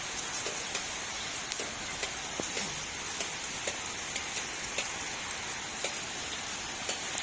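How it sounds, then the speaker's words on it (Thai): Steady rain pours down with a dense hiss, scattered drips and ticks landing on a nearby surface throughout. "ฝนตกนะคะ ตอนนี้ก็ตกปล่อยๆนะคะ"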